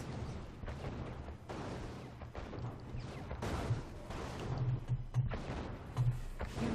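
Mirage tanks fight Rhino tanks in Red Alert 2, a steady clatter of cannon fire and blasts running continuously at moderate loudness with repeated low thuds.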